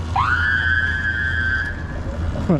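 A crossing warning alarm blares near a dirt-bike rider, a single sustained rising-then-steady siren tone lasting about a second and a half over road and engine rumble.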